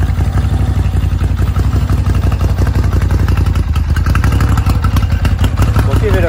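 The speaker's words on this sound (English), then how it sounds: "We'll give it a rev so you can hear the pipes." A 2015 Moto Guzzi V7 750 II Special motorcycle engine running with a steady, loud, throbbing exhaust note from the pipes, close by and continuous throughout.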